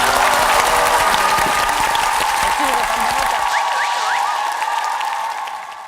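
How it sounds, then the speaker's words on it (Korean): A television studio audience on a Korean talk show claps loudly and steadily, with some cheering and voices mixed in, before the applause thins out and fades near the end. "자 용기 박수 한번 예."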